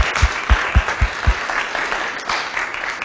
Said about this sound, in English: So please, let's thank her, even though she's not here.